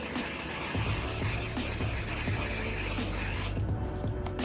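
Urban Decay Quick Fix setting spray misted onto a face, a steady broad hiss of spray running for several seconds before cutting off abruptly near the end.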